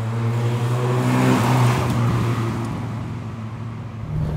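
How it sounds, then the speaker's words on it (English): The noisy exhaust of a Lada Riva drones and rises as the car pulls away, with a strong low engine tone that is loud at first and then eases off, with no voices. "the obligatory noisy exhaust"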